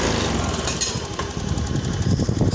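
Honda Beat scooter engine revving hard, a loud, buzzing high-pitched drone that rises and wavers continuously and stays close up throughout.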